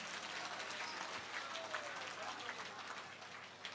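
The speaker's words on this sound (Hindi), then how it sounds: "जोरदार ताली बजा के धन्यवाद दो" Loud, sustained applause from a large crowd at a Hanuman temple consecration festival, dense clapping running steadily throughout with no pauses.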